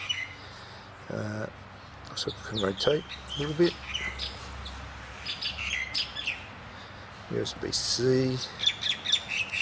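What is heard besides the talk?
bird chirping and squawking nearby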